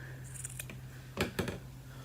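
Scissors snipping a crocheted yarn tail, a couple of quick close cuts near the middle after a few faint handling sounds, over a low steady hum with no speech.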